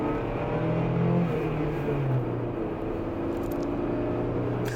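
An old everyday car driving slowly through town, its engine a steady low hum with a slight rise and dip in revs, heard from inside the cabin and without talk.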